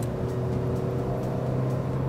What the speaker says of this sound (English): the CVT pushes the engine to rev really high and sticks to that revolution